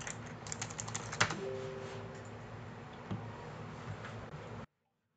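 Someone types an enrollment key on a computer keyboard in a quick, uneven run of close keystrokes with one louder clack, thinning to scattered taps before stopping abruptly.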